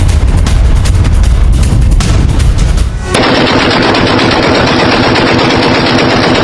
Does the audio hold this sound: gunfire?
yes